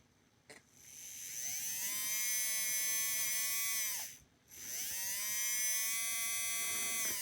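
A repaired model train motor whirs at high speed in two bursts separated by a brief stop, with a rising then steady buzzing pitch, close up and alone.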